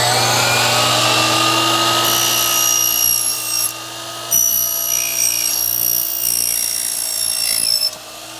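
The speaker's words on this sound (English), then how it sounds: "now we're ready to go cut the Astragal body" Power saw cutting through an aluminum astragal body, a loud close whining and rasping cut with high tonal squeal, briefly dipping mid-cut before continuing and then stopping.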